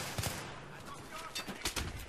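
Burst-fire gunfire in Battlefield 3 sounds as a few quick, fairly faint shot clusters within a busy battle mix, and someone talks over them.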